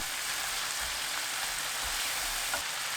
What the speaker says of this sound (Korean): 소스 붓고 센 불로 40초 볶아주세요